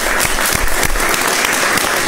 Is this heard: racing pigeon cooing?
no